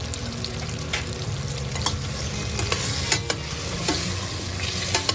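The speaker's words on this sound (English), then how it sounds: "We're adding the green chili in. Give it a quick mix." Green chili gets stirred into a pan of frying Bengali aloo poshto, with a steady sizzle under repeated scrapes and clicks of a spoon. No one speaks.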